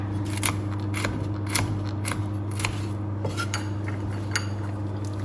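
A knife slices walnuts lengthwise for decorating a caramel cake, giving a series of crisp, sharp cutting clicks at an uneven pace over a steady low hum.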